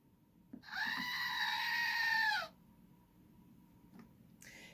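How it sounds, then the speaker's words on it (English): A screaming goat toy lets out one loud, sustained shrill scream of about two seconds, close up in a quiet room, followed by faint clicks of handling. "here he is next to a screaming goat."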